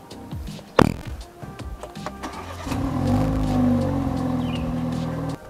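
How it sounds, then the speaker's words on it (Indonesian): A 2020 BMW 330i M Sport idles and then pulls away as it leaves a parking area. A sharp thump comes first, then a steady, moderately loud engine drone settles in and rises gently as the car begins to move. "sekarang kita coba gimana rasa berkendara mobil ini"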